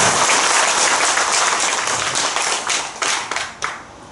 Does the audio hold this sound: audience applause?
yes